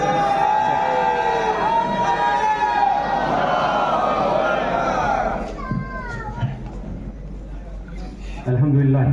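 Large crowd at an Al Quds Day rally in Delhi chanting the takbir slogan, loud massed voices rising together, then thinning into scattered shouts and a quieter murmur before another burst at the end.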